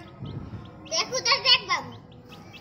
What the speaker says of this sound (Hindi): देखिए कितने प्यारे प्यारे चूजे हैं।